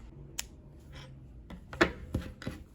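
Crochet yarn is snipped at close range with several quick, crisp cutting and rustling sounds, quiet and spaced out, with no talking.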